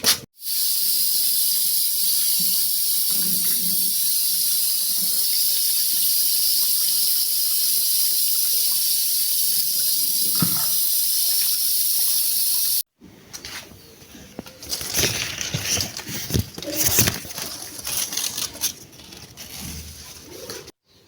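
Running tap water splashes loudly and steadily while a ZZ plant cutting is rinsed, then cuts off abruptly, leaving softer drips and handling noises.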